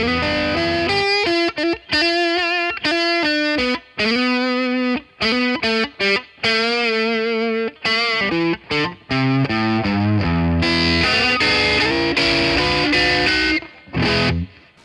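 Distorted electric guitar plays a bluesy lead through a Marshall Valvestate 40V 8040 amp with reverb and chorus-like effects, notes ringing continuously with brief pauses, no voices.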